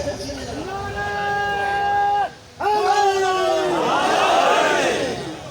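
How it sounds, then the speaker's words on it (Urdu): Crowd at a Shia majlis gathering chanting slogans in unison, loud sustained voices rising and falling with a brief break, then surging again. "سارے نعرے انہوں نے لگانے کے ادھر سے"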